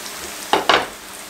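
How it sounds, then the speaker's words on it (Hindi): Potato nuggets shallow frying in a little oil over a medium flame, with two quick sharp sizzling bursts close by, as if pieces are stirred or turned, over a quiet background hiss. "हल्का सा इस तरीके से शैलो फ्राई कर रहे हैं, डीप फ्राई भी नहीं कर रहे हैं"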